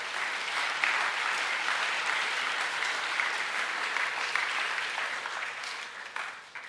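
Sustained applause from an audience at a school co-curricular awards ceremony, honouring a teacher; steady, dense clapping throughout that thins slightly at the end, heard on its own without talk.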